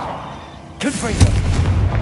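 A Confringo fire-blast spell in Hogwarts Legacy bursts with a sudden loud crack followed by a deep, rumbling boom that lingers, over quieter game ambience.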